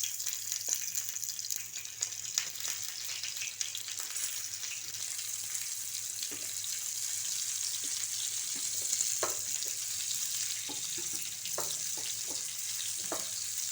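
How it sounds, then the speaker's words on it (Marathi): Whole small eggplants sizzle in hot oil in a pan, a constant bright frying hiss broken by occasional pops and the clatter of turning them; no one talks. "हे चांगलं फ्राय झालेलं आहे आता याच्यामध्ये आपण एक एक वांगं सोडायचं"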